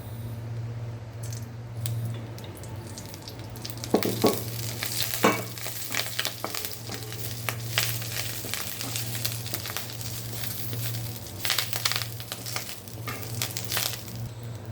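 Curry leaves roasting in a pan with a little oil for a Maharashtrian curry leaf chutney give a soft, steady sizzle, with scattered stirring scrapes and clinks near the middle and end.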